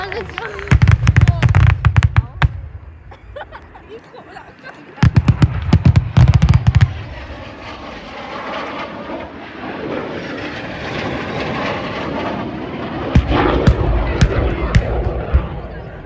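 Rapid bursts of sharp cracking pyrotechnic explosions in two volleys during a Strikemaster jet strafing display at RAF Cosford, followed by a roaring jet engine rumble and more crackling pops at the end.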